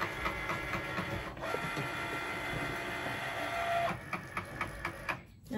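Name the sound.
printer printing memorial lantern designs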